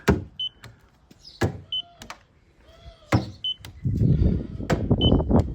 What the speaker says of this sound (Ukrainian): два склопідіймачі